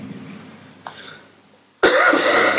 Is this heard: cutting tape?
no